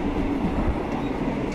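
A wood-interior shuttle train between Padang Besar and Hat Yai rolls along the rails with a dense, steady rumble and faint clickety-clack, heard from inside the carriage.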